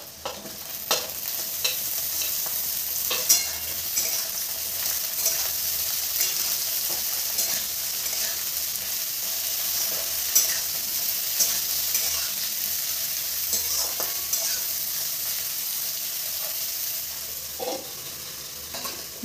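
Chopped brinjal frying in a pan, a steady loud sizzle with frequent stirring scrapes and clicks running throughout, no voices.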